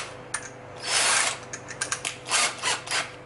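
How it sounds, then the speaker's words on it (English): A screw is driven into a pilot hole in a new hinge, with a power driver whirring in short bursts between clicking, ratcheting mechanical sounds, close and fairly loud. "I have to do a little pilot hole to get the screw in."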